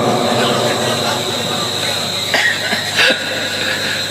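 Audience members at a public talk in Gopalganj cough, with a couple of short, sharp coughs rising briefly out of a steady, noisy crowd hum in the middle of the stretch.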